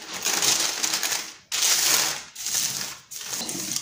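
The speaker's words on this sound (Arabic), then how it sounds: "دابا نحاول انني نلف عليها الورق" Paper is wrapped and pressed around frozen pastry dough, giving three continuous bursts of loud, close crinkling and rustling separated by brief pauses, with no voices.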